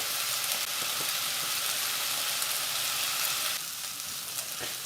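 Curry powder and tomato paste sizzle steadily in a pan as they are stirred, a constant close frying hiss with faint scrapes of the spoon.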